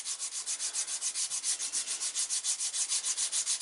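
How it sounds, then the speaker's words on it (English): Light back-and-forth sanding of a leather edge with a small piece of 220 grit sandpaper, a steady run of quick, even rubbing strokes at close range with no voices. "And as I do just a light sand, sometimes you wind up having to actually sand quite a bit."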